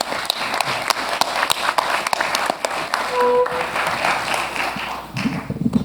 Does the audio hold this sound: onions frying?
no